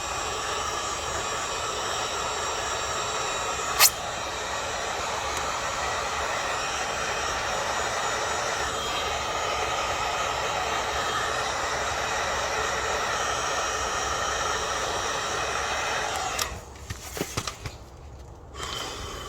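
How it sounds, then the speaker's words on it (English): A heat gun blows steadily to shrink heat-shrink tubing over repaired LED underglow wiring, a constant hissing roar that runs for about sixteen seconds before cutting off into a few clicks and handling noises. "get the heat gun and heat those up"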